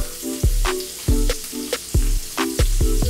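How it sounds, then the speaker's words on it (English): Shrimp sautéing in a pan with salt and pepper, a steady sizzle broken by repeated sharp clatters and thumps of stirring or tossing, close and fairly loud, with no talking. "Okay, so first we're gonna saute our shrimp."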